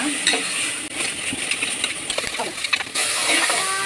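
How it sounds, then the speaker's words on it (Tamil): Onion and tomato sauté in a pan for a country chicken curry, a spoon stirring and scraping amid steady close sizzling, with clinks against the pan. "கொஞ்சம் நல்லா வதக்கிக்கலாங்க."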